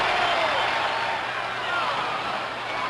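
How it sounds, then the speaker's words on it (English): A broad, steady roar from a large stadium crowd at Fenway Park during Game 6 of the 1975 World Series between the Reds and Red Sox, loud and continuous throughout. "Listen to that crowd."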